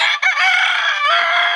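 Desi and golden misri chickens on a poultry farm, with a loud, close rooster crow drawn out over more than a second and no talk.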